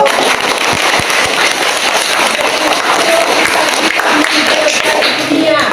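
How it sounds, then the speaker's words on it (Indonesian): Primary schoolchildren at SDK Peibenga clap together during a mobile library visit, making a loud, continuous rush of sharp, crackling hand claps with scattered voices mixed in. "Coba tepuk tangan yang meriah."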